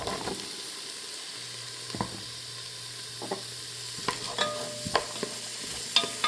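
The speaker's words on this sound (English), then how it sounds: "I saute the onions until they're translucent" Onions, celery and carrots sauté in butter for a ham chowder, a low steady sizzle under repeated scraping and stirring of a utensil against the pan, the knocks growing more frequent toward the end.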